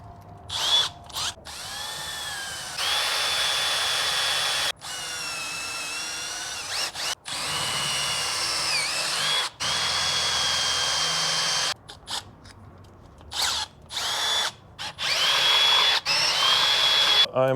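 Power drill enlarging a hole with a 1/4 inch bit while a hard lower is installed: loud whining bursts start and stop repeatedly, with the motor pitch shifting under load and short quiet gaps between runs.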